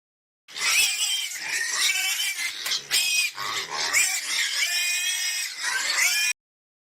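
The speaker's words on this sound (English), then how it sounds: "This is a pig." A pig squeals and grunts continuously up close, loud and shrill, with rough snorting breaks mixed into the high-pitched cries.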